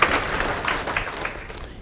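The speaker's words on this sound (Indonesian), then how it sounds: "Tepuk tangan." A meditation-session audience claps together, a moderately loud, continuous patter of many hands that holds steady for a couple of seconds with no talking over it.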